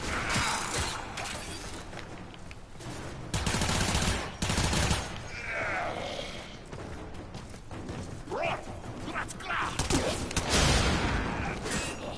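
Rapid weapon fire in the PS4 video game Warframe rattles in dense, fast bursts, mixed with mechanical clanks and other busy game sounds throughout.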